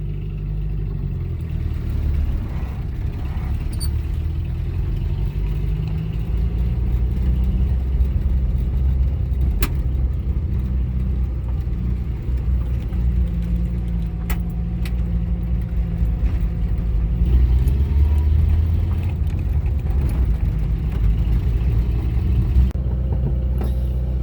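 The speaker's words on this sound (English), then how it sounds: "So it does have a really annoying exhaust leak." A 1965 Renault R8 1100 with an exhaust leak, its engine droning steadily at close range for over twenty seconds with a raspy, leaky exhaust note that swells slightly toward the end, no voices.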